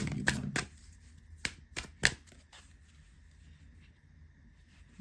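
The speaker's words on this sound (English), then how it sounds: "let me shuffle these cards and let's pull you one" Tarot cards are shuffled in short crisp riffling bursts, several quick flurries close to the mic separated by quiet pauses, in an otherwise still room.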